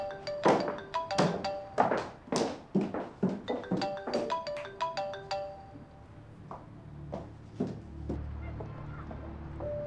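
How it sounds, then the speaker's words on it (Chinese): An incoming call on a telephone rings in a quiet office: a chiming ringtone melody repeats in bright, evenly spaced tonal pulses for about five seconds, then stops, leaving soft room hum. "老板，你电话。"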